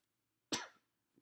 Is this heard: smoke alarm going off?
no